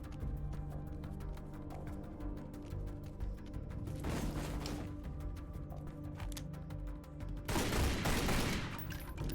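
Pistol gunfire in the game Tomb Raider: Legend, two bursts of rapid shots over a steady background of game music and ambience.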